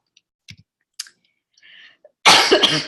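A few faint clicks and small mouth sounds in near silence, then a single loud, close cough at the end.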